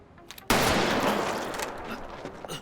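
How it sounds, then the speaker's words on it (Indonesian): A single sharp gunshot from the Squid Game series, a sudden loud crack after near silence followed by a long reverberant tail that slowly fades. "Tiba-tiba Junho menembak frontman."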